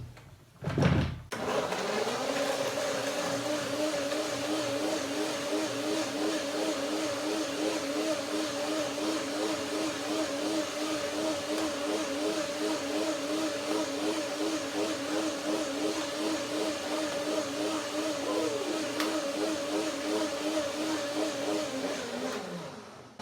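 After a brief click, a blender whirs steadily and loudly for over twenty seconds, its motor pitch wavering slightly as it churns a thick persimmon and tangerine cream dressing.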